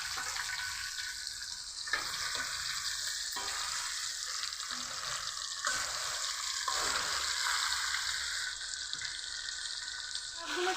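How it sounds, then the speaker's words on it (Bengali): Chicken leg pieces deep-frying in hot oil for a homemade chicken fry, giving a steady, close sizzle with occasional stirring clinks throughout. "বাকি চিকেনগুলো এভাবে ভেজে নিব।"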